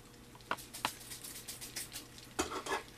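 Cilantro gets stirred into Navajo taco filling in a pan. A spoon makes quiet scraping, pattering strokes in irregular bursts, with a few sharper scrapes near the start and end.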